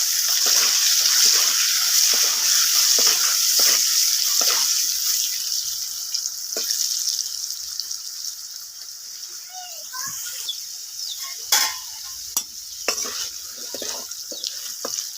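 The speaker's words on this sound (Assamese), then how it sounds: "আলুখিনি ফ্ৰাই কৰোঁতে মই নিমখ আৰু হালধি দি দিম" Potatoes frying in a pan with salt and turmeric, cooked ahead of a fish curry with tomato: a steady, close hiss of sizzling oil with scattered clinks and scrapes of stirring that fade slightly toward the end.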